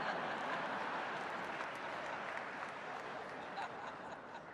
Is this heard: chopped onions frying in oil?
no